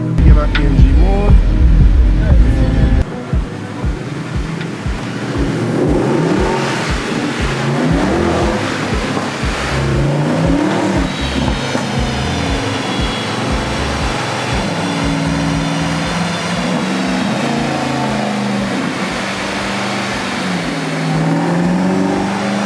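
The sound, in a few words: Mercedes-Benz AMG car engine revving on a dyno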